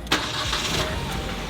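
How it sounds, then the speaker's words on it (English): A car engine cranks with a short sharp burst and then settles into a steady running rumble, close by and alone. "Next up, my friend Noah started the car and we noticed something"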